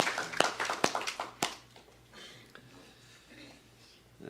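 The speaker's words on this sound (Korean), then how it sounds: "우리 하나님께 영광의 박수 올려 드리겠습니다." A church congregation applauds during a Sunday service: a burst of clapping in the first second and a half, then fading into a quieter room tone with a few scattered claps.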